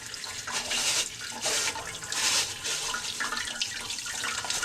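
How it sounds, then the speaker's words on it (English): Tap water runs over a part of a Kuvings Master Chef CS700 slow cold press juicer as it is spun, giving a close, steady splash whose swells rise and fall, with no talk. "So now I'm letting the water run at it and spinning that thing."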